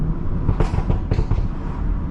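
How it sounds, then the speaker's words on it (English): Exhaust pops and crackles from a tuned Stage 2+ BMW on a downshift in city traffic, a few sharp bursts around the middle over a steady engine and road rumble. "The pops are sounding nice though."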